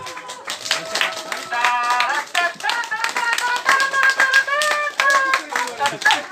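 An audience at a children's competition claps for a child's second-place finish, a dense burst of hand clapping with a voice speaking over it.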